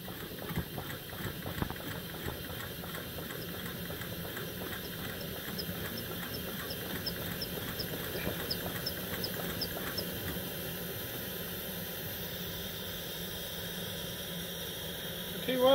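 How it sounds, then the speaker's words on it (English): A Coleman Peak 1 model 576-700 backpacking stove burning hard, a loud, steady roaring hiss that holds constant throughout, with a voice speaking over it. "I'm impressed with this little stove. It's raging."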